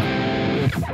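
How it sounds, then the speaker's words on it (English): Electric guitar through a distortion effect, a sustained fuzzy power-chord-style tone ringing steadily and loud, then shifting briefly near the end; no talking. "Of course, there's the distortion, and you can select different types of distortion, as you can hear."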